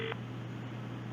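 A short burst of telephone keypad dialing tones sounds at the start, then the line carries a faint steady hum as a call is put through.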